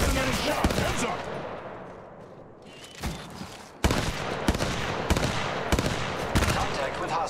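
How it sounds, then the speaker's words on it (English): Rapid bursts of automatic gunfire from Apex Legends Mobile ranked play, loud and repeated in sharp volleys with brief pauses, plus a short quieter stretch midway, under game voice callouts. "Opening fire on the enemy."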